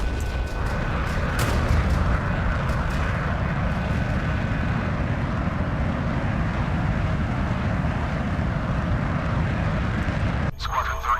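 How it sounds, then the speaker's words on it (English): Rocket fire and explosions in a video game make a loud, unbroken roar of blasts and rumble that fills the whole stretch. "We're gonna kill this thing with rockets."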